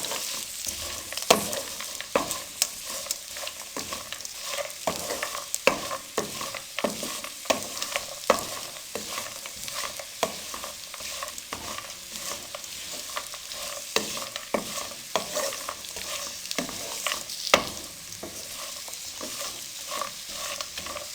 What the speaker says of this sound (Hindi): लो फ्लेम पे तमाम ड्राई फ्रूट्स हमारे बहुत अच्छे तरीके से फ्राई हो चुके हैं